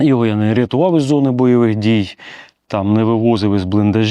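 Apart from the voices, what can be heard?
No everyday noise stands out behind the speech.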